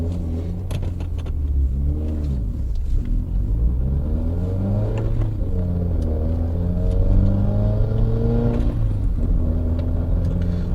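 A car accelerates through a legal U-turn, its engine rumbling and rising in pitch through several gear-like sweeps, heard from inside the cabin at steady, fairly loud volume.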